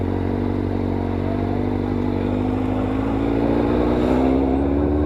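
A Kawasaki ZX-750 motorcycle on a test drive holds a steady loud engine drone with a low rumble and a slowly rising pitch, continuous and close, with no talking.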